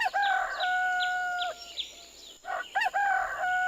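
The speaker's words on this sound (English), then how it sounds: "Hector the rooster welcomed the new day with one of his high-pitched calls" Hector the rooster on a farm in the United States lets out several shrill, high-pitched crows in quick succession, loud and close, with clucks between calls and no talking.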